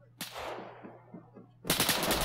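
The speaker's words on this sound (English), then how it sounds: "That's automatic fire." Automatic gunfire in Arma 3 during a military assault on a compound: a single sharp shot with a long decaying echo, then a loud sustained burst of rapid fire near the end.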